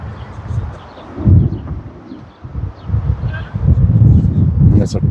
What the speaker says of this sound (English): And it's a cold, windy day here.